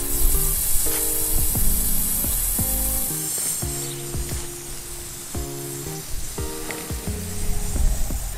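An above-ground garden sprinkler sprays water in a steady close hiss while its nozzle is turned by hand, with brief clicks and ratcheting mechanical sounds breaking in over the spray.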